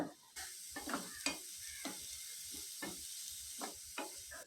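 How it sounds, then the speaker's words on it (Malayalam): Cauliflower stirred in a pan for thoran gives a soft frying sizzle, with repeated scraping strokes of a spoon roughly every half second, close but fairly quiet, no voices. "ഇനി ഇവിടെ ഈ ചേർത്ത് കൊടുത്ത കോളിഫ്ലവറും മറ്റും നന്നായിട്ടൊന്ന് ഇളക്കി യോജിപ്പിക്കുക"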